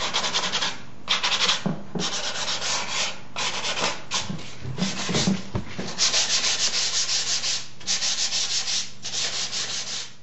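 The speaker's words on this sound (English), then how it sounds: "now that we've distressed this with sandpaper and then more Scotch-Brite pad" Old sandpaper rubs back and forth over milk paint on a wooden washstand bedside table in a steady series of close, rasping strokes, some with brief pauses between them and no speech.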